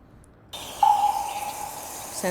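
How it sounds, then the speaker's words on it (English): Water in an architectural animation soundscape, a steady running, tap-like trickle that starts suddenly and carries on moderately loud with a ringing tone, ending in a short splash. "Just got this kind of like drip sound."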